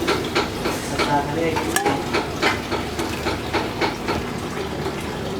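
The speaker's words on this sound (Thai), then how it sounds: "เดี๋ยวไปทอดปลากันครับ" Tilapia being prepared for a chili-salt dish in a pan, with frying sizzle under rhythmic scraping and stirring strokes of a utensil, close and fairly loud.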